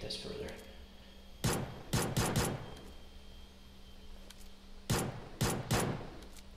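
A handgun fires in the video game PUBG Mobile in two quick clusters of three or four sharp shots, with someone talking quietly in between.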